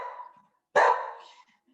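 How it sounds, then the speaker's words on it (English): A dog lets out a single sharp bark close by while playing with a squeaky toy, preceded by a brief thin squeak and followed by a fading whine. "if anyone on here doesn't like the sound of a dog having fun"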